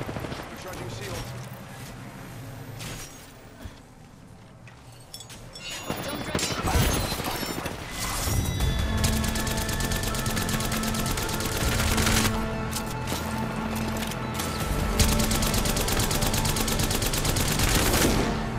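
Gunfire in the video game Apex Legends, dense bursts of rapid shots and impacts layered with game music and effects, loud and continuous through the final fight, with a voice speaking over it.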